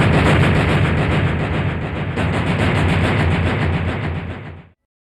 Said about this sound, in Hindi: कुछ ही देर बाद बम फट जाता है और पूरा रेगिस्तान दहल उठता है